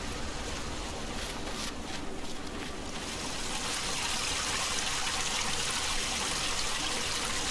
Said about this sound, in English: Got the waterfall.